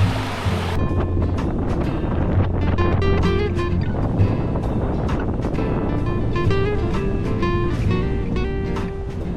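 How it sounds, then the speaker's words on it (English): Wind at Mapleton Falls in Queensland, a steady broad rushing roar buffeting the microphone outdoors, continuous and fairly loud with no talking. "I would go put some nice forest sounds in the background, but I guess you can just hear the wind instead."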